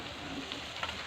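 Pumpkin and meat tipped into hot frying spices in a pan, giving a close, steady sizzle with a couple of brief stirring clatters, no voices.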